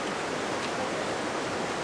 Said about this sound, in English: is one of the headwaters of the Jordan River.